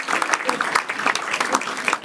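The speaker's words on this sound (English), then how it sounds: "So clap for a clean show." Comedy show audience clapping together after a call for a clean show, a dense steady wash of many hands with a few louder claps poking through, fairly close and unbroken.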